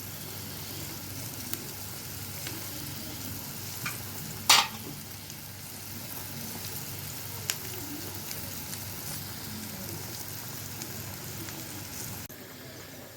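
Onions fry in a pan for Egyptian bessara, a steady soft sizzle with occasional stirring scrapes and one sharp clink, fairly quiet and continuous with no talk.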